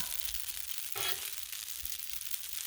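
Shrimp scampi sears on a Blackstone griddle with a steady, close broadband sizzle, rising briefly in a louder burst about a third of the way through before settling back to a constant crackling hiss.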